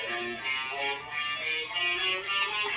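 Electric guitar with a distortion pedal picks out single-note scale runs, a steady stream of sustained, overdriven notes played alone at moderate loudness.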